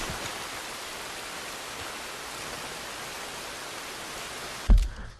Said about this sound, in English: And it's pouring rain at the reservation.